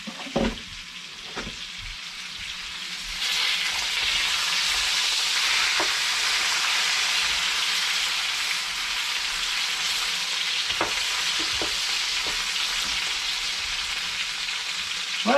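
Kielbasa and potatoes fry in a pan, giving a continuous loud sizzle with scattered clicks and scrapes of stirring, close and steady without talk.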